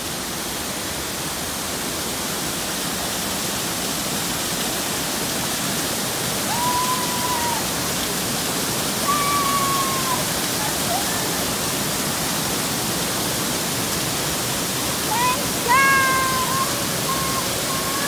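Steady broadband rush of Kawazu Seven Falls waterfall in Izu, Shizuoka, fills the scene continuously, with a few brief high chirping calls, likely birds, rising above it.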